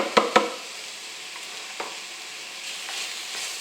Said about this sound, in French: je vais rajouter les oignons